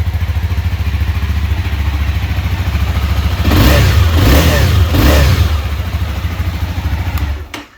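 A Honda CBR 300R sport motorcycle engine idles steadily, then revs sharply twice in quick blips before settling back to idle, loud and close with no talk.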